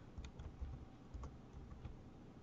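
Keys clatter on a computer keyboard in a quick, irregular patter of soft clicks, close but quiet, with no talking.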